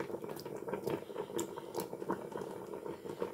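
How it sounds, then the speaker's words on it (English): Coconut cream for Samoan vaisu comes to the boil in a pot, giving a steady close bubbling and simmering with soft irregular pops, no talking. "Let's bring it to the boil."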